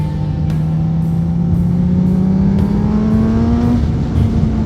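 Suzuki GSX-R 1000 motorcycle accelerating hard, engine note climbing steadily in a loud, close, continuous rising whine over wind rush, with no talk.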